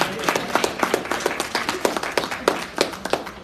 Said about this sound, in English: Come on, give God a hand clap of praise